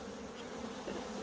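Honey bees in a colony infested by Capensis bees buzz as a steady, dense drone, close and unbroken, with no voices.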